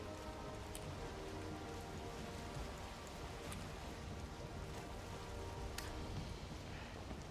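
Steady soft rainfall in a video game world near the ocean at nightfall, an even hiss of drops throughout, faint and continuous with no talking.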